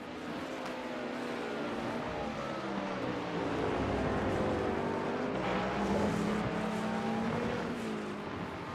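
GTP prototype race cars in iRacing at Laguna Seca, engines droning and shifting pitch as several cars run together at speed, a steady loud blend of multiple motors rising and falling without pause.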